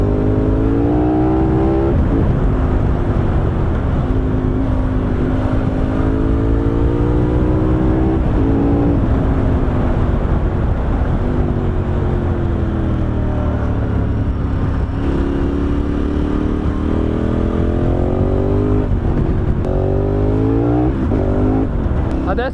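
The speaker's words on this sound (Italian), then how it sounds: "Adesso la moto la stiamo guidando in modalità sport" A KTM 1290 Super Adventure S motorcycle with an Akrapovic exhaust roars steadily while riding in sport mode, its pitch rising and falling with throttle changes, loud and close with constant wind rush.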